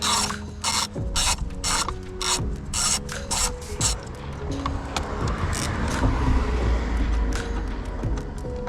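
Rapid ratchet clicking as a 13mm battery hold-down bolt is loosened on a 2016 Mercedes CLS W218, bursts of close, sharp clicks in repeated strokes, then softer rubbing and turning of the freed bolt.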